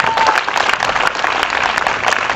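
An audience at a school annual function applauds during prize giving, a dense, steady burst of many hands clapping close by, lasting a couple of seconds without speech.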